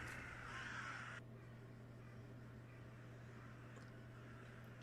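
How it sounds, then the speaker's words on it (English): Crows cawing in the gothic point-and-click game The Last Door, a short burst of harsh calls at the start over a steady low hum, then quieter ambient background. "I hear the crows."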